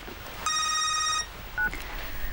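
A short electronic phone ring, a single bright tonal burst followed by a brief beep, clear and close in a quiet room.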